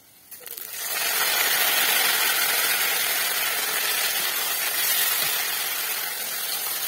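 Onions sizzling and frying in a kadhai over a village clay stove for a jackfruit curry, a steady loud hiss that swells in after a brief quiet start and holds constant to the end.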